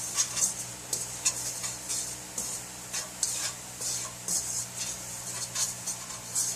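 Food is stirred in a pan while dinner cooks: a spoon scrapes the pan in regular, rhythmic strokes about twice a second, close and moderately loud, over a faint steady background hum.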